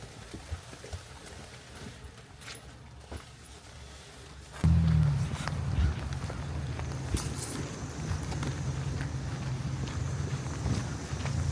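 Wind gusts outdoors on a cold, rainy day in Canada, a low rumble buffeting the microphone that is faint at first and grows suddenly louder and rougher partway through, then stays steady.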